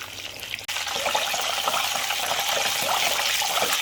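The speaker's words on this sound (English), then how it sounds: "We will fry this fish like for about 2 minutes, and then we will take it out." Silver trevally fish frying in hot oil in a pot: a loud, steady, dense hiss and crackle that fills the whole stretch after a brief dip near the start, with no talk over it.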